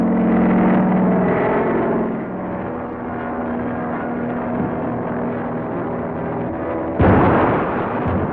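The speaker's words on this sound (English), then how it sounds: "I can start dropping these bombs" Bombs dropped from an aircraft explode under the continuous drone of propeller engines, with a heavy blast bursting in loudly near the end.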